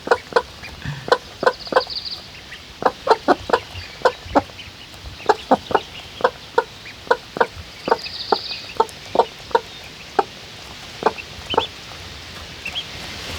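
Chickens cluck in steady, sharp bursts close by, with a few louder squawks scattered throughout and a quiet background.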